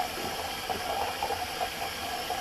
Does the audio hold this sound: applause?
no